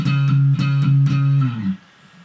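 Bass guitar plays a fill moving down the neck, a run of firm, plucked low notes in quick succession that ends with a short slide and fades out.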